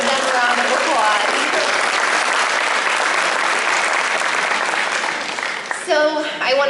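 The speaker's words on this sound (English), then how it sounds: "I just want to give them a round of applause" A roomful of guests claps loudly at a holiday table-decorating fundraiser event, a dense, sustained ovation that tapers slightly near the end as a few voices cut through.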